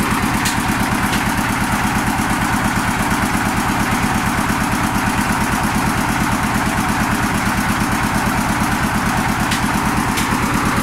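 A motorised grinding machine milling Mie Aceh spice paste drones loudly and continuously with a fast, even engine-like pulse, close and alone without speech.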